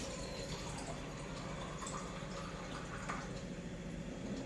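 Water running and pouring steadily into a cooking pot for rice, a continuous close splashing flow that stays even throughout with no voices.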